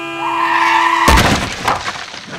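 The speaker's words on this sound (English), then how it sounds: "He got run over by a lorry" A lorry crash effect: a sustained, high tyre skid squeal suddenly cut off by a loud smashing impact, followed by scattered crunching and shattering debris.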